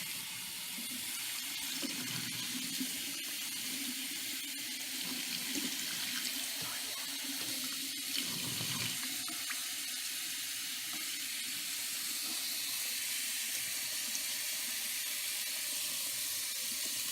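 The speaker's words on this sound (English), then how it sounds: "we wash the pork in cold water to displace the hot water and gunk that Jerry was talking about earlier." Cold tap water runs steadily over pork being washed in a sink, a continuous hissing splash with slight changes as the meat is moved under the stream, heard close by without speech.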